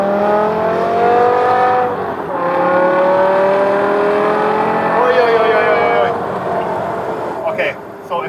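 A modified BMW E60 M5 with a 550 bhp V10 pulls hard, its engine note climbing steadily through the gears with brief shift dips, loud and close from inside the car, with an occupant's voice over it.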